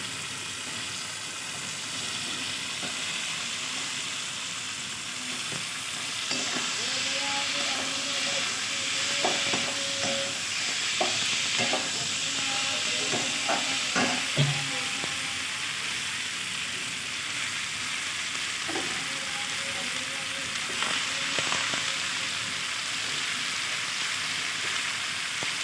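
Spiced potatoes, eggplant and shrimp fry in oil in a pan, giving a steady soft sizzling hiss with intermittent spoon scrapes and clinks throughout.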